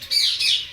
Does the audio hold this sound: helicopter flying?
no